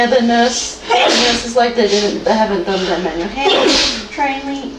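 A single sneeze breaks into a lively conversation about hospital stays, sitting briefly among the voices as people keep talking around it.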